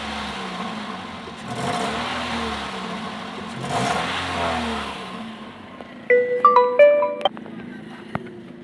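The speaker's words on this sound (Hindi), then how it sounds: "जैसे ही एकदम से मैं एक्सीलेट कर रहा हूँ तो गाड़ी थोड़ा सा मिस फायर करके फिर आरपीएम ऊपर लेके जाती है" A Toyota Corolla with a misfire and low fuel pressure revs twice, each rise swelling and falling back, before the engine quiets and a few sharp electronic beeps and a click follow.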